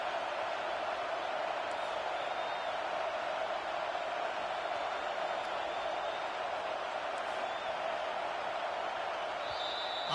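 Stadium crowd in the video game College Football 25 roars and cheers steadily for the whole stretch, a dense, loud wash of noise with no break.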